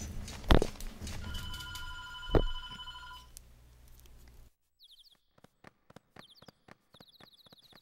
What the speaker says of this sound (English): Okay, the phone is ringing, so I'm gonna have to shut off the audio for now.